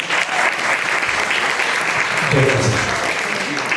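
An audience applauds steadily at a community event against antisemitism, a dense wash of clapping throughout with a few voices murmuring underneath.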